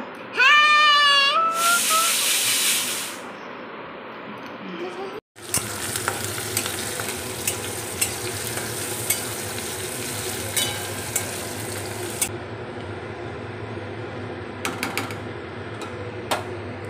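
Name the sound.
cooking dal in a pan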